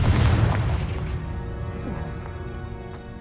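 A Confringo fire spell cast in the video game Hogwarts Legacy bursts with a deep, loud booming blast at the start, then trails off into a fading rumbling, crackling tail with faint scattered pops.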